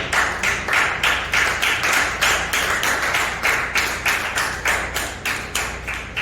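Congregation clapping together in a church service, a steady rhythmic beat of many hands at a brisk, even pace, continuous and fairly loud with no talking.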